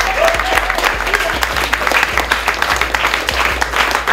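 Rap battle crowd giving steady, dense applause with scattered cheers and whoops, loud and continuous throughout, with a voice faintly mixed in beneath the clapping.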